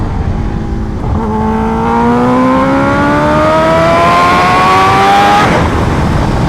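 A Kawasaki H2R motorcycle accelerates hard in third gear, its engine note climbing steadily in pitch as revs rise over several seconds, loud and close throughout with no talking.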